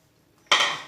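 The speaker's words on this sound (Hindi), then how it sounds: "तो अब हम एक एक अंडा ऐसे अलग से तोड़ के डालते जाएंगे" An egg cracks against the rim of a bowl while fruit cake batter is prepared, one sharp close click after a moment of near silence, ringing briefly as it fades.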